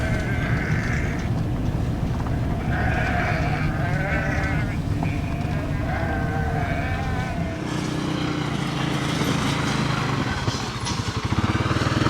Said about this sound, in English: sheep are following us